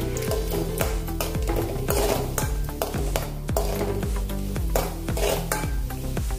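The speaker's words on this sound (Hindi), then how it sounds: "काजू को हम अभी तलेंगे।" Cashews fry in a little oil in a pan while a utensil scrapes and clanks against the metal in a steady, repeated stirring rhythm over a faint sizzle, close and loud, with no talking.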